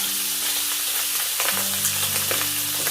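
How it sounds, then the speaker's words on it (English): Prawns frying in a very hot pan, a steady loud sizzle with crackling bursts and a low hum of the stove underneath, no voices. "I'm going to fry them just for 1 minute on both sides"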